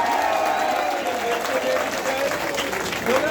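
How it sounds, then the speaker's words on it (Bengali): A crowd claps throughout a ceremony welcoming a new member into a traders' association, with steady applause and some cheering that stays loud from start to finish. "সবাই করতালির মাধ্যমে স্বাগত জানান"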